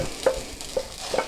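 Softened onion is added to a pan for home-made tomato soup, bringing a soft sizzle under three short stirring scrapes spaced roughly half a second apart, close and fairly quiet.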